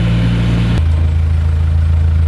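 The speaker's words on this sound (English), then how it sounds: "Let's just put a little bit of revs on." A narrowboat's engine runs on a canal as a steady, loud throbbing drone, with its pitch shifting after a moment as the revs change, and it carries on without talk.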